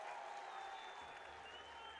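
Stadium crowd applauding at a Rochester Rhinos versus Louisville City FC soccer match, a faint, steady wash of distant clapping and crowd noise without breaks.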